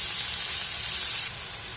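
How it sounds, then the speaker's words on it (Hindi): Small potatoes and tomatoes frying over a high flame in a pan, a loud, steady sizzle with dense hiss that drops slightly in level partway through. "सबू को एबे हाई फ्लेम रे टिके भाजी देबा 2 मिनिट"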